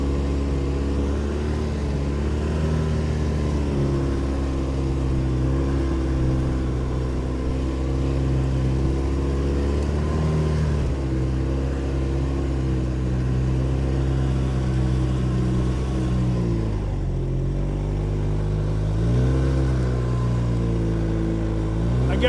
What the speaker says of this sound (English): when you're riding on a snowmobile,